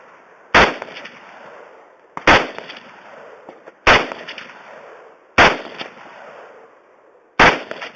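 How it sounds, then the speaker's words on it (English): Five loud, sharp gunshots at a shooting range, fired one at a time about every one and a half seconds, each cracking and then decaying with an echoing tail. "that's a really pleasant gun to shoot."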